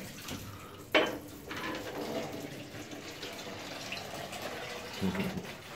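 Cold water runs from a kitchen sink tap in an unfinished house, a fairly faint, steady rushing stream with a sharper splash near the start and a small knock toward the end.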